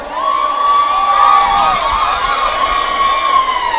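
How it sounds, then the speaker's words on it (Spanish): At a beer festival, women let out long, shrill sapucay cries that ring high and sustained over a cheering, shouting crowd. "a ver el Zapucay de las mujeres"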